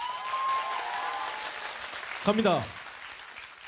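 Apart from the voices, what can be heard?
audience applause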